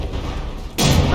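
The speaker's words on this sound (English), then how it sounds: "there are a couple actual real shells firing still" Battleship shells fire and strike in the From the Depths naval combat game during a Sawtooth versus Megadozer battle: a low rumble suddenly breaks into a loud, close, broadband blast that roars on without fading to the end.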